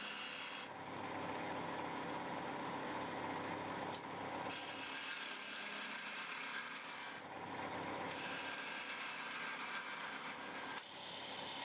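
A wood lathe spins a handle while a spindle gouge cuts a decorative recess, giving a steady close scraping and rasping hiss that runs continuously with brief pauses and shifts in pressure, no voices present.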